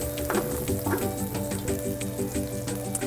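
Onions sizzling in oil in a paella pan, a dense continuous hiss and crackle with a steady tonal hum running beneath it, with no one speaking.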